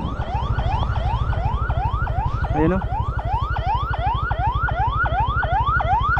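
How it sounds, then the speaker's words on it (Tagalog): An ambulance siren wails close by in a fast, repeating rising sweep over a crowd at a dam, loud and continuous, with a brief voice in the middle. "nandito na yung isang ambulansya"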